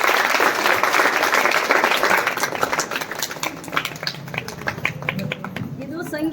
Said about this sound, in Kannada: ಚಪ್ಪಾಳೆ ತಟ್ಟಿ.